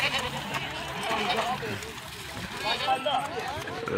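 Goat bleating at a crowded Eid livestock market in Rawalpindi, Pakistan, where goats are being washed and prepared; short bleats rise through constant mixed crowd chatter and someone talking nearby.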